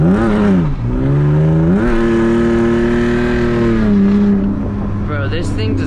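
BMW E46 engine revving hard while drifting, a loud, close, continuous drone that rises, holds and dips in pitch with throttle changes, alongside talk.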